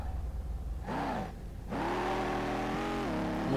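A car engine in the Street Legal Racing video game revs hard on a test track, the pitch climbing and settling into a loud, steady drone after a brief lull.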